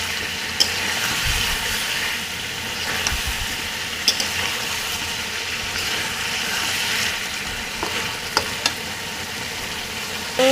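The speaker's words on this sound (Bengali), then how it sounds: "এটাকে আর ভালোভাবে কষিয়ে নিতে হবে" A sweet pumpkin and rohu fish curry is stirred and fried down in a pot with no water added. A steady close sizzle runs under occasional sharp scrapes and clicks of the spoon.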